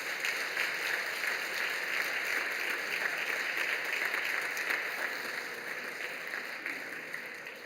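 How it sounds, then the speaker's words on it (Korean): Steady applause from a church congregation at a Sunday evening worship service, an even wash of clapping that holds for several seconds and slowly thins toward the end, with no voices over it. "다시 한번 큰 격려의 박수를 부탁드립니다"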